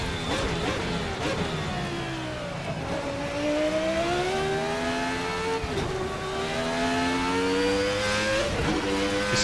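A 1990 Formula V10 race car engine in a racing video game wails loudly and continuously, its pitch climbing through the revs and dropping sharply at each gear change.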